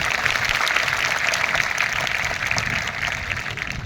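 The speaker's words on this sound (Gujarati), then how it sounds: "જોરદાર તાળીઓ" A crowd at a Hindu religious conference in Bhuri Amba, Kathiwada, Madhya Pradesh claps together in a dense, steady wash of applause, sustained and fairly loud.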